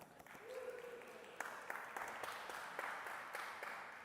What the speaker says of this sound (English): Give another round of applause for Bruno Sanmartin and his whole gang.